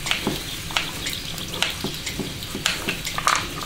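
Food sizzles in a frying pan with a steady crackling hiss broken by scattered sharp pops, close and alone with no voices.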